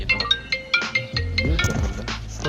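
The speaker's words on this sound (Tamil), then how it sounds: "அலாரம் தான்." A phone alarm ringing with a series of short repeating electronic tones, then a louder melodic swell with low bass and sweeping notes, fairly close and steady.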